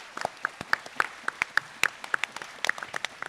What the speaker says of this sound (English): Let's give them a massive round of applause for supporting this.